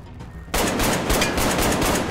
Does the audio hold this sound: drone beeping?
no